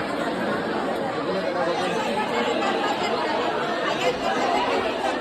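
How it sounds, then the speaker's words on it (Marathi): A dense crowd waits in line at the Dronagiri temple festival, producing a constant wash of many-voiced chatter with scattered laughter, steady and close throughout. "लाईनीला सुद्धा भरपूर गर्दी झाली आहे इकडं पूर्ण लाईन लागलाय"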